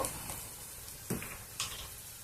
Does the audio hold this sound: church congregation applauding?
no